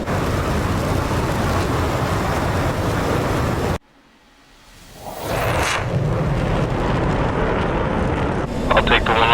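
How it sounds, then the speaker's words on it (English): A fighter jet's afterburner in the DCS flight simulator game, a loud sustained roar that cuts out suddenly, then swells back up into a heavy rushing rumble with a crackling edge near the end. "Shine that big afterburner"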